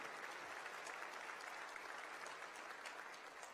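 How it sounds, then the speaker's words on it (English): A large indoor audience at a city address applauds steadily, dense clapping filling the room at an even level for several seconds before tapering slightly at the end. "I think we owe a big round of applause to everybody, the city staff"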